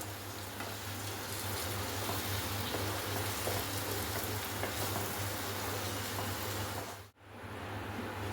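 Chicken frying in a pan with a poured-in spice paste, a steady dense sizzle that holds close and even for several seconds before a brief dip near the end, with no voices.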